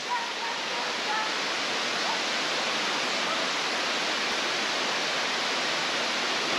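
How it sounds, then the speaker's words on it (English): Steady, broad rushing roar of a waterfall spilling into a rocky pond at El Limón in the Dominican Republic, heard up close and continuous throughout with no talking. "But we're going closer to the waterfall."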